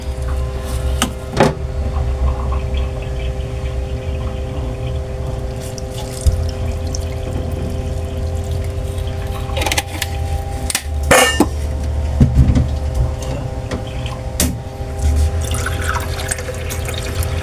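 Vinegar is poured into a pot for fish paksiw made with salmonete, giving close liquid trickling and splashing along with occasional clinks and knocks of the pot and utensils.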